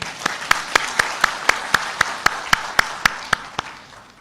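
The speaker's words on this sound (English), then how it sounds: "I think a round of applause." Steady, evenly spaced hand claps ring out at a book launch programme in Delhi, about fourteen sharp beats in rhythmic unison, fairly loud and close, with no talk over them.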